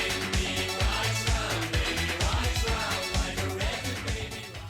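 Blender pulsing crushed ice and ice cubes for a Jungle Bird tiki cocktail with pineapple juice and Campari: a loud, dense grinding roar with rapid rattling bursts that runs steadily throughout, close and without talk.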